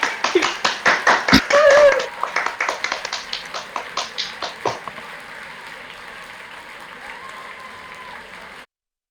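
Graduation attendees clap over unmuted microphones at a virtual ceremony, a ragged mix of individual claps and taps that starts loud and thins out to sparse, fainter clapping before cutting off.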